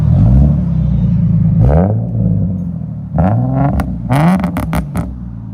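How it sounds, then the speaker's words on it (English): A 2007 Infiniti G37 fitted with a Z1 Motorsports cat-back exhaust idles loud and close, a deep steady burble broken by a few short blips of the throttle and sharp crackles near the end. "There's the idle on it."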